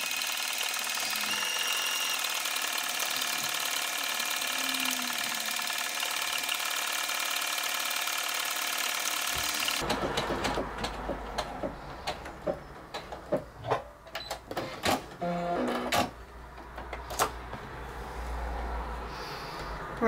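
A domestic sewing machine stitches a buttonhole on Hudson Pants with a steady whirring run for about ten seconds. Then comes a stretch of mechanical clicks, clunks and rattles as the fabric and the machine are handled.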